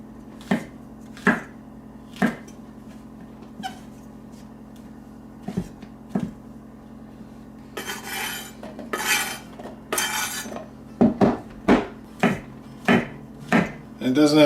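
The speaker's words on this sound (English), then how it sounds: "Just going to kind of chop them up just a little bit." A knife chops ingredients into rough chunks on a board for a breakfast casserole, a series of sharp, close thuds in uneven bursts, with a short stretch of scraping or clattering in the middle.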